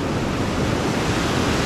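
Ocean surf roars steadily on the beach at Playa del Carmen, Mexico, a dense wash of breaking waves close by with some wind buffeting, no voices.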